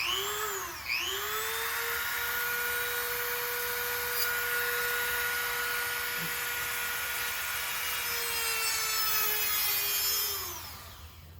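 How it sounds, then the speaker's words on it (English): A Dremel rotary tool whines steadily at high speed, cutting through a spark plug wire in a 1971 Monte Carlo SS engine bay, spinning up briefly, holding a constant pitch for about ten seconds, then winding down; no talking. "I want to hit it with the Dremel and I'll cut the wire off"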